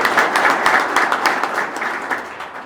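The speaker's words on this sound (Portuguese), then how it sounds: "então uma salva de palmas para ele" An audience at an inauguration ceremony for a municipal president gives a round of applause, a dense close burst of clapping that slowly thins and fades toward the end.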